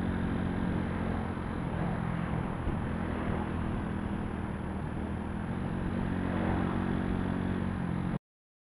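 A motorcycle climbs a hill as the rider eases off the throttle, giving a continuous mid-pitched engine drone with wind rush that holds steady and then cuts off abruptly, no voices.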